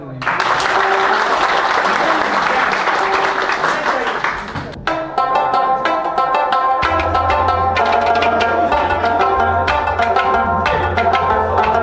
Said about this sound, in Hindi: मैं चाहूंगा कि आप लोग एक बारी जोर से अपने लिए तालियां बजाएं